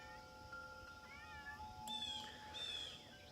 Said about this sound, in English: I hear a kitty somewhere.